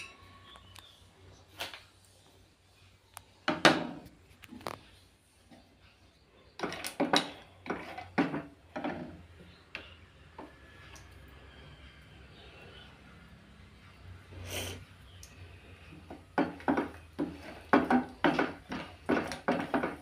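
Dry fruits frying in ghee in a pan for payasa, with scattered clinks and scrapes of a spoon against the pan, some in quick clusters, over a faint steady sizzle, close and moderately quiet.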